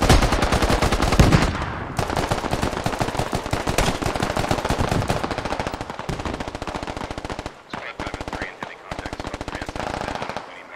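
Sustained automatic gunfire from the military shooter game Squad, dense rapid bursts hammering almost continuously and loud, with brief gaps near the end and voices faintly mixed in underneath.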